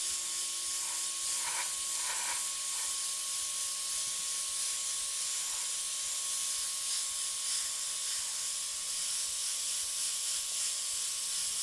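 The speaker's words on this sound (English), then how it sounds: "I'm not trying to only spray over the white background" A steady airbrush hiss sprays continuously, with a few brief sputters near the start; no talking.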